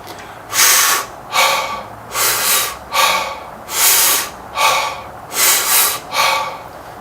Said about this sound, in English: So it is a full deep inhale, natural exhale, followed by a 2-stroke inhale